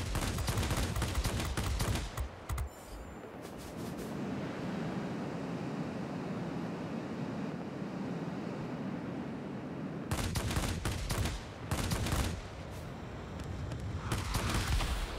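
In the World of Warplanes video game, a Ta 183 fighter plane fires its machine guns in several rapid bursts, with a steady rushing flight noise between the volleys.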